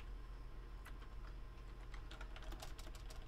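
Typing on a computer keyboard during game development: a run of quick, light key clicks, sparse at first and then denser near the end, close by over a steady low room hum, with no voices.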